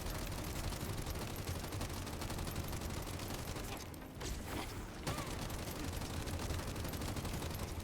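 Continuous rapid gunfire from the Glay weapon in the video game The First Descendant, a dense, unbroken stream of shots that dips briefly near the middle before resuming at full intensity.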